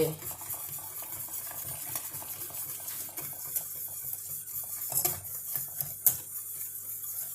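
A spoon stirring gravy in a pot, a steady soft scraping and swirling with faint clinks against the pot, continuing quietly throughout at close range.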